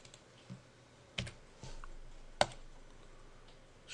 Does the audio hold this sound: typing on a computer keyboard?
yes